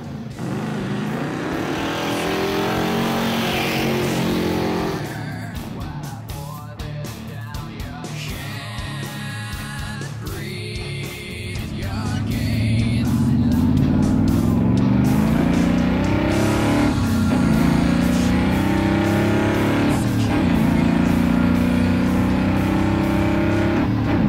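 A Ford F100 pickup with an original 302 V8 and four-barrel carburetor runs close by, its engine rumbling and rising in revs in the second half.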